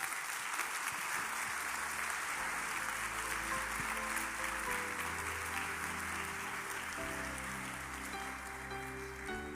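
Church congregation applauding during a Spanish-language worship service, a dense, sustained patter of many hands clapping that holds steady for several seconds, with faint music tones underneath.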